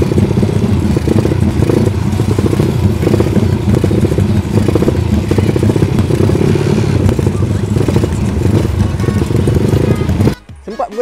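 A motorcycle engine drones steadily through a group road ride, loud and close with clattering road noise, before cutting off abruptly near the end. Voices are faintly audible under the engine.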